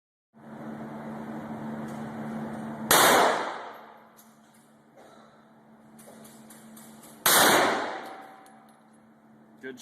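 Two sharp gunshots at a shooting range, each a loud close crack with a ringing decay, spaced a few seconds apart over a steady background hum.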